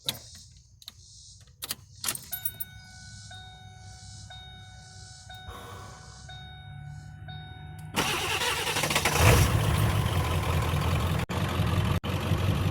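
7.3 Powerstroke diesel engine that skips and shuts off, with an idling rumble and faint clicks and beeps in a quiet stretch, then a louder engine roar as it is revved, sustained to the end.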